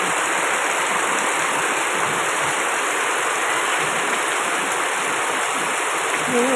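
Heavy tropical rain pours down in a dense, steady hiss, loud and continuous, with faint low rumbles beneath the downpour.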